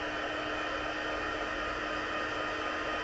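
A hair dryer blows steadily over a watercolored stamped sunflower card, a close, even, unbroken whoosh from start to finish.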